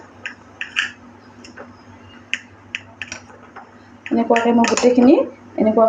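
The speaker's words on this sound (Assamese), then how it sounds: "এয়া মই ব্ৰেডৰ ছাইডৰটো এনেদৰে মই কাটি ল'ম" A knife trims the sides off bread slices, giving a series of light ticks and clicks against a board. A voice starts talking near the end.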